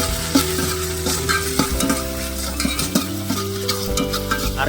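Ground ginger, garlic and chili paste fry in a pot for one-pot chicken rice, with a steady close sizzle and repeated scraping stirs, no voices.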